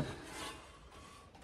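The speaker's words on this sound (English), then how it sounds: "what I'm doing is just sanding down the back sides" Reclaimed cedar barnwood boards being sanded on their back sides, a steady close rasping scrub that continues unbroken with no voices.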